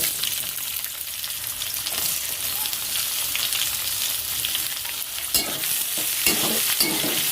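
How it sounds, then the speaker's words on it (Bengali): Onions fry in hot oil in a kadai alongside bay leaf and dried red chillies, giving a steady, dense sizzle throughout with occasional stirring scrapes and clatter near the end, close and continuous with no talk. "এবার পেঁয়াজ ভাজা"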